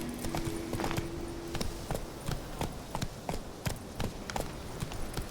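Steady galloping hoofbeats of a horse in The Witcher 3: Wild Hunt, a rapid, even clip-clop rhythm running throughout at moderate loudness over a faint ambient bed.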